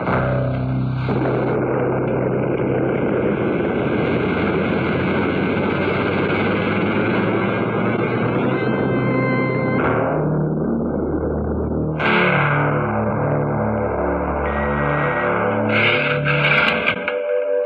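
A spaceship liftoff effect from a radio drama roars up as a dense, loud, distorted rumble that swells and holds. It then breaks off and gives way to a pulsing, warbling electronic tone, with no voices.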